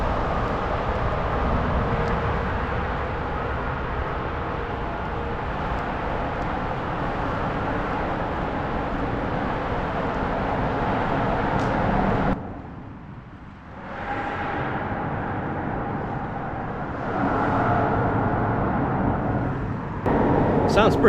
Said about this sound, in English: Sounds pretty strange hearing all that traffic from down here going right over top of your head.